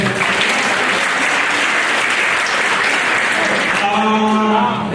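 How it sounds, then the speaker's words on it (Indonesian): A congregation at a church anniversary celebration claps together in a dense, loud burst, with a faint voice emerging as the clapping continues. "Yuk tepuk tangan buat GKRI Shalom ya"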